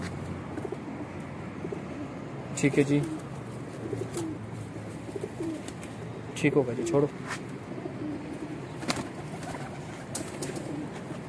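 Rooftop pigeons coo in low, soft murmurs while someone talks intermittently over them, with a couple of brief louder bursts of movement and wing flutter.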